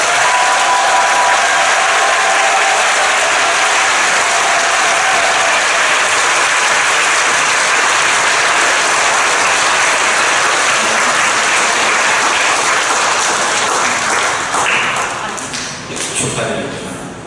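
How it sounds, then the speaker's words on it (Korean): A church congregation gives loud, sustained applause to congratulate newly confirmed members at a confirmation service, a thick continuous roar of clapping that fades slightly near the end. "교우분들에게 박수로 축하."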